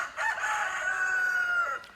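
A single rooster crows in the countryside, one long, fairly close cock-a-doodle-doo lasting about two seconds, heard alone with no talking.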